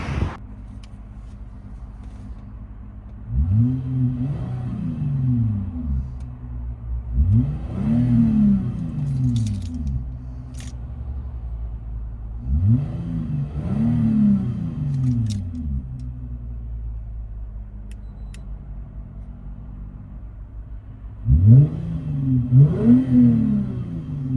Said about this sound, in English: So Lexus IS250, valves closed.